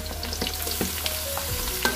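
Papaya flowers stir-fried with lemongrass, ginger and tomato in a pan, a constant close sizzle broken by scattered scraping knocks from the stirring utensil.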